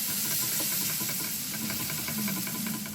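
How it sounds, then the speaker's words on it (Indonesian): Minced garlic, about six cloves' worth, frying in sesame oil in a pan, a steady close sizzle and hiss with faint crackles that holds at a constant level throughout, no talking. "Kita tumis sampai harum."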